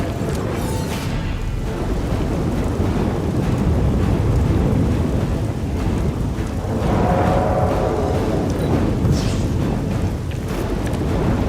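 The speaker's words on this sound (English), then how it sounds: "And enjoy the rain!" Heavy rain pours steadily in Marvel's Midnight Sons while low thunder rumbles underneath, a dense, constant wash of storm noise with no voices.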